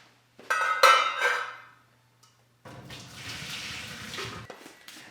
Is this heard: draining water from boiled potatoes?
yes